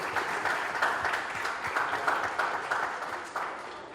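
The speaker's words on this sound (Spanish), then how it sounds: "Un aplauso provisional." Conference audience applause, a steady mid-level wash of many hands clapping in a hall for about four seconds, with no voices over it.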